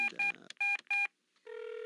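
Touch-tone telephone dialing in the You Don't Know Jack video game, a quick run of clean tone beeps with short gaps, then a steady ringing tone takes over, close and clear with no talk.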